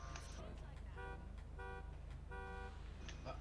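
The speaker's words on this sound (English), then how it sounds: "honk the horn for me three times" A car horn sounds three separate honks in steady succession, each about half a second long, over a constant low engine rumble.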